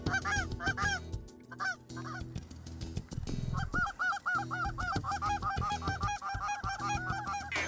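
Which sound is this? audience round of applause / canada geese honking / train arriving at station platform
canada geese honking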